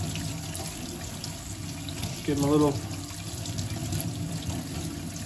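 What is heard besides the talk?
tap water running over beef bones being washed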